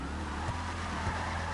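Video game car drifting, with a sustained engine drone and a broad, steady squeal of sliding tires, loud and continuous with no voices.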